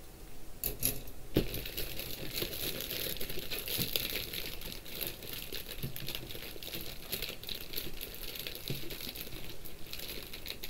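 Soft plastic parts bags from a Master Grade RGM-79G GM Gunpla kit crinkle and rustle continuously during unboxing, close and busy with scattered sharp crackles and light taps throughout, no talking.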